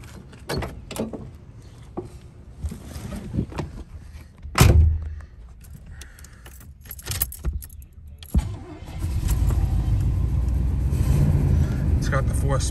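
A 1986 Oldsmobile Cutlass Supreme with a 4-speed overdrive, which runs rough, has a door and keys clattering under talk before the engine catches with a sharp burst and settles into a steady, loud low rumble.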